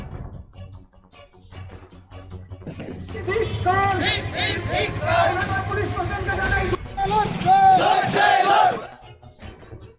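A BJP protest rally crowd outside a police station shouting slogans in unison, loud rhythmic chanting swelling over murmuring street noise, with a lead voice and collective responses.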